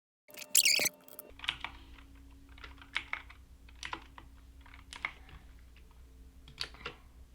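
Keys tap on a computer keyboard as a command is typed for Minecraft, irregular close clicks in short bursts over a quiet background, with a louder clatter at the start.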